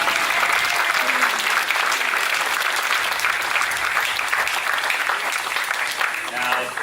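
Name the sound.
applause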